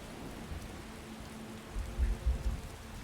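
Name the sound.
rain falling in Skyrim video game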